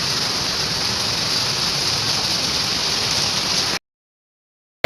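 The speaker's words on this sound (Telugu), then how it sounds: "ఫుల్ వర్షం స్టార్ట్ అయింది." Heavy rain pours in a dense, steady roar for about four seconds near Kochi, Kerala, then cuts off abruptly into silence.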